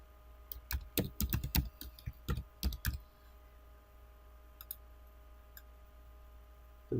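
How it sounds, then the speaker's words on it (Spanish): Quick clattering keystrokes on a computer keyboard, a fast run of loud clicks for about three seconds, then a few sparse taps and near silence. "Vamos a teclear"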